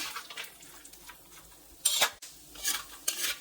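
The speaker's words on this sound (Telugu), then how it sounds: "ఇప్పుడు ఈ గింజలు కూడా వేసుకొని ఫ్రై చేసుకుందాం" Small seeds frying in a pan, a faint crackle and sizzle with a few brief scraping stirs and clinks of a spoon.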